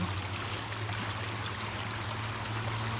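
Water in a stream in Sweden flows steadily with a soft, even rushing and trickling, faint and continuous, with a low hum beneath and no voices.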